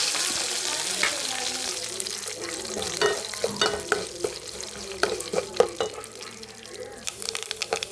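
Mustard seeds and curry leaves splutter in hot oil in an aluminium pan, with a soft sizzle broken by frequent sharp pops and crackles close by that grow busier toward the end.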